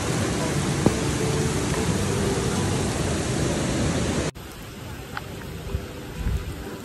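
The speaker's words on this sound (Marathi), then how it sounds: "पण पाऊस मात्र जोरात आला" Heavy monsoon rain pouring down at Bhushi Dam near Lonavala, a loud dense steady hiss that suddenly drops to a softer, lighter wash partway through, with faint scattered sounds under it.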